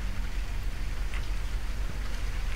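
Steady rain with wind hisses as a sound effect in a ghost-story radio drama, set on a stormy night ride home, a constant faint wash of noise with no voices.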